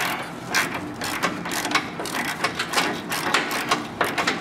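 A 16 mm deep-well socket on a ratchet wrench loosens the sway bar link nut on a RAM 1500 front suspension, giving close, rapid clicking ratchet strokes in a repeating rhythm, with no talk.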